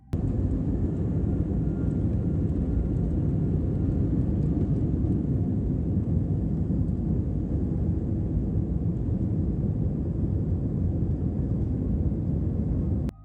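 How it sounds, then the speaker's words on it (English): Two airliners taking off side by side at San Francisco produce a loud, steady, broadband jet-engine roar and rumble that holds constant for about thirteen seconds, with no talking. "these 2 planes are taking off at the same time"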